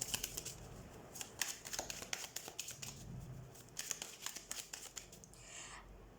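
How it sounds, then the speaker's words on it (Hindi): Tarot cards being shuffled by hand, a quick run of crisp riffling flicks and papery slides, close and faint, with no talk. "हम कार्ड शफल कर लेते हैं"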